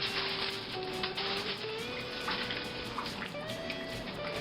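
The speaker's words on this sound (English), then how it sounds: "I'm just going to push them right down into some water." Dried corn husks for pork tamales are pressed down into warm tap water, giving a soft watery sloshing and trickling with faint tonal squeaks, quiet and without voices.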